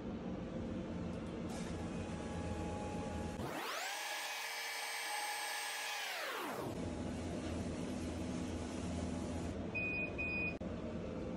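A CO2 laser cutter running an axis calibration job, its motors giving a smooth rising and falling whine for about three seconds over a steady fan hum, with a short beep near the end.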